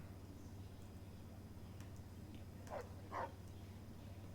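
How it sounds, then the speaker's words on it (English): Two short dog barks from a stray mutt in the Freeside district of Fallout: New Vegas, heard at moderate distance over a steady low ambient hum with no talking. "Puppy dog."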